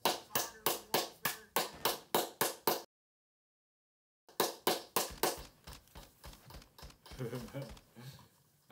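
One person claps in a steady, close, sharp rhythm of about ten claps, falls silent, then claps again in a looser run before talking begins over it.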